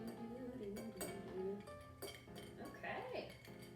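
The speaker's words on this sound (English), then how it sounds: "We're going to stir this to chill it and dilute it." A bar spoon stirs a whiskey cocktail over ice in a mixing glass, making a run of light, close clinks and rattles against the glass, with faint talk in the background.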